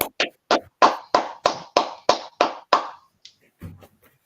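Eleven sharp, evenly spaced claps ring out one after another in a steady rhythm, loud and close with a short echo after each, ending with a faint bit of noise.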